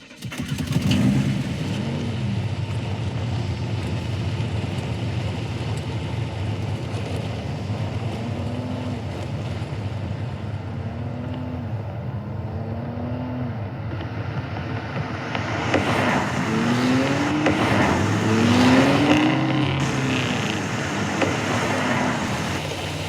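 A brand-new 2022 Audi RS3 starts up and revs, its engine note rising and falling in several sweeping pulls, then swelling louder as the car passes close by, with no music.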